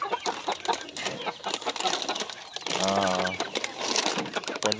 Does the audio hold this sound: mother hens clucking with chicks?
yes